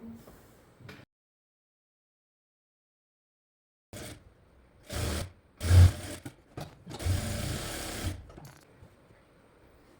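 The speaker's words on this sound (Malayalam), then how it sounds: "ഇനി നമുക്ക് സ്കേർട്ട് പോർഷൻ ഒന്ന് സ്റ്റിച്ച് ചെയ്തെടുക്കാം" A sewing machine stitches the skirt pieces of a baby frock, starting after a quiet stretch with several close, uneven bursts of whirring stitching that speed up and pause.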